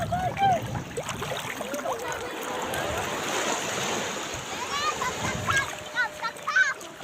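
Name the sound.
splashing into cool water while swimming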